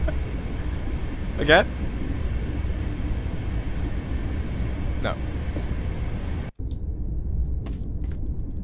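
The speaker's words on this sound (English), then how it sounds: "This is a long train." A long train rolls past in a spooky indie video game, a steady low rumble that runs the whole time while a player talks briefly over it.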